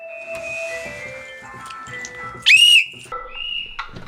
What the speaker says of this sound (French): Thomas, j'ai entendu ton sifflet mon grand.